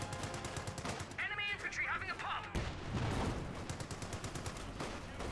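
Machine-gun fire in the strategy game Company of Heroes 2, with dense rattling bursts and crackling battle noise filling the whole stretch, a voice partly blended beneath the gunfire.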